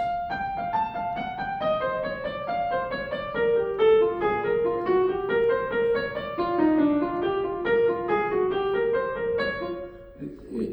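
A piano plays an even run of evenly spaced notes, moving up and down at a steady moderate pace, fairly soft.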